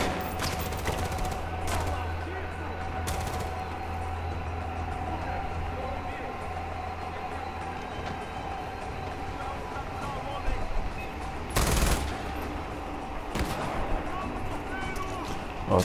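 Sniper gunfire and battle noise in the video game Far Cry 4, with dense, constant rumbling shots and sharp cracks, including a loud burst near the end, while someone speaks over it.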